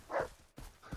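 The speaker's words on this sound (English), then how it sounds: "Dogs?" Dogs bark in the video game Far Cry 3, with two or three short, separate barks at moderate distance and no talk over them.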